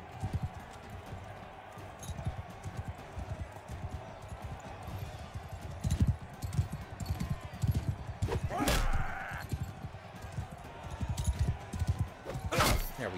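Horse hooves in the Mount & Blade 2: Bannerlord video game: rapid, irregular clip-clop thuds amid battle noise, with a couple of louder sharp impacts, fairly close and continuous.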